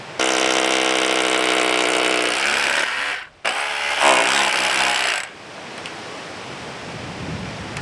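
A power drill bores holes in timber for a traditional Australian stockman's cattle fence, with two loud, steady whirring bursts broken by a brief pause, then fading to quieter rubbing and handling noise.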